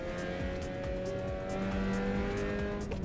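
Mazda MX-5 engine held at full throttle in the racing game Assetto Corsa Evo, a steady high-revving drone with dense harmonic whine, loud and continuous throughout, no talking.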